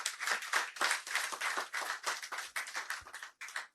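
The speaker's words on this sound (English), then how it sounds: "A round of applause for him," A conference crowd at a construction and real estate outlook event claps for the Lagos State housing commissioner, making a lively burst of applause that rises and dips in quick uneven waves of hand claps, with no voices over it.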